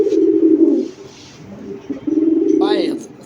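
Racing pigeons coo in low, repeated throaty bursts, close by, while someone talks over them.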